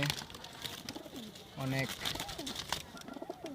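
Pet pigeons coo softly in a loft, with one clear throaty coo in the middle among fainter bird sounds. Someone talks over them.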